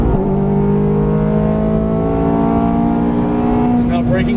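A Ferrari F430 accelerates hard on a Las Vegas track, its engine note climbing steadily in a loud, close, rising roar, while an instructor talks over it.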